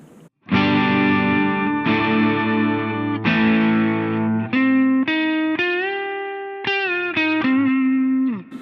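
Electric guitar played loud through an MXR Custom Badass Modified O.D. overdrive pedal as a boost, a series of sustained distorted chords and notes ringing out one after another.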